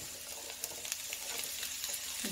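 Potato browning with onions in a pot, a steady low sizzle with faint stirring scrapes and small pops, quiet and continuous with no talk.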